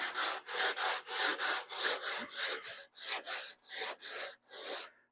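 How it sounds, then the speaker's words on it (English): Hand sanding of Bondo body filler on a 1976 Monarch car body, using a round sanding block with 60-grit paper, gives steady rhythmic rasping strokes, about a dozen close, even back-and-forth passes with no talking. "As I'm doing this, I'm rolling the round sanding block, and I'm always going in a crisscross pattern."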